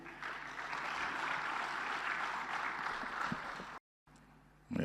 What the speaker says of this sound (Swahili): Makofi tena mengi.